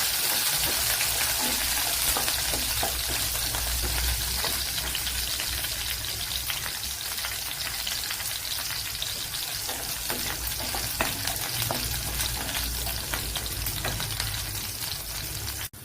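A tablespoon of coconut oil sizzles steadily in a pan while bitter gourd curry is cooked, a continuous crackling hiss with scattered sharper pops, close and even throughout.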